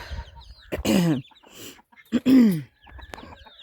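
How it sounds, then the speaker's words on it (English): Farm chickens clucking near a fence, several loud, close, drawn-out clucks and squawks in two bursts with quieter clucking between, no talking. "Look at these birds are so beautiful."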